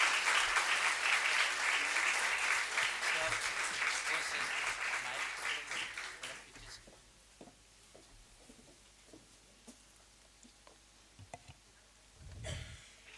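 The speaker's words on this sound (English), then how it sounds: "Students, come on, show the parents and teachers how to clap." Students at a 40th Foundation Day school event applauding: a loud, dense crowd clapping for about six seconds that fades into scattered claps and quiet room noise, with a brief low rumble near the end.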